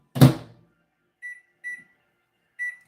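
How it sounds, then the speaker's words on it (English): A microwave oven melting butter: a brief clunk of the door or button, then three short electronic beeps at intervals, clear and close in an otherwise quiet room. "put it in the microwave"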